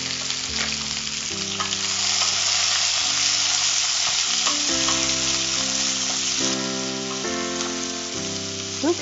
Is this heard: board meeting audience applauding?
no